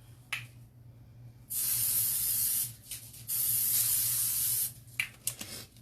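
Two long bursts of aerosol cooking spray onto a pan hiss steadily, separated by a short pause, with faint clicks before and after.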